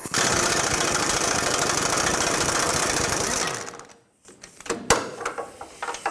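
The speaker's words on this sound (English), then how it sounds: "Switch from my breaker bar to my air gun." Pneumatic air impact gun spinning off the pitman arm nut on a 1997-2003 Ford F-150, a loud continuous rattling burst up close for about three and a half seconds, then stopping, followed by quieter clanks and handling noises.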